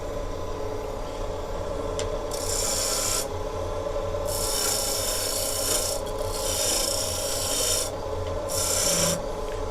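A woodturning tool cuts wood on a lathe in a small shed, bursts of bright rasping shavings on and off over the steady hum of the spinning lathe motor, close and fairly loud, with no talk.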